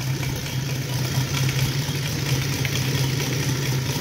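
A 260cc gas engine with an RCEXL CH CDI ignition idles steadily, a close, even low hum with a constant pulsing drone that holds for about four seconds without changing.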